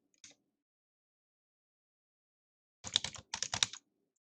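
Typing on a computer keyboard: a single short keystroke, a pause, then a quick burst of about eight to ten close, crisp clicks in two clusters, with no talk.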